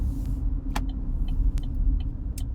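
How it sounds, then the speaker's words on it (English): Steady low engine rumble of a car on the move, with a few faint, sharp clicks scattered over the drone. "sorry if you can hear the car rumbling in the blinkers"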